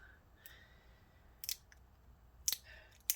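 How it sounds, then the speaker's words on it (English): Scissors snipping through a piece of tape in quiet surroundings, with a couple of sharp close cuts separated by a pause, faint and crisp. "So let me cut this tape."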